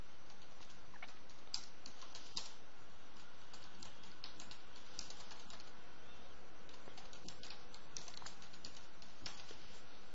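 Someone types file details on a computer keyboard, a steady stream of faint rapid key clicks over a constant background hiss, with no talking.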